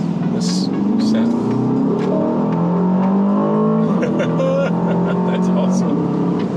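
An Aston Martin DBX 707 SUV engine revs and accelerates on a test drive, a loud, continuous rising growl heard from inside the cabin, with people talking over it.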